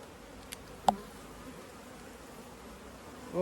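Honey bees in a queenless, laying-worker hive buzz in a steady low drone, with a couple of brief sharp sounds near the start and a louder burst at the very end.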